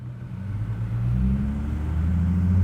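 Nissan car with a VQ37VHR engine on a test drive, giving a steady low engine rumble that builds slightly in pitch and loudness as it pulls away, with no talk.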